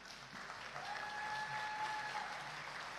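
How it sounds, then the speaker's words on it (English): A crowd at the Victor Dixon High School 2023 commencement ceremony applauds the standing parents, a broad, steady wash of clapping that holds evenly for several seconds. "may we invite a round of applause for our standing parents"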